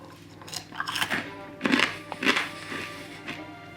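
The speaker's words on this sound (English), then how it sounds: "I love a pork scratching, and these are going to be really, really noisy." Loud, close crunching as hard, crisp pork scratchings are bitten and chewed, several sharp crackly bursts over a few seconds with no talking.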